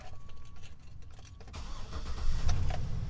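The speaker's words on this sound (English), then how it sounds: "so it cranks up fairly quick" A 2008 Hummer H2 engine cranks over quickly, catches and fires up, then settles into a steady running rumble that grows slightly louder and rougher over the last second or so.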